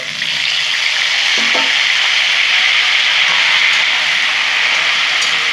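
Cauliflower frying in plenty of oil, a loud continuous sizzle with faint scraping underneath, close by and steady throughout, with nobody speaking.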